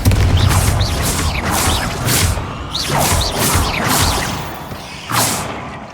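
Spell blasts from the Hogwarts Legacy video game, a string of loud booming, crashing explosions every second or so over a dense rumbling fight, with faint whooshes between hits.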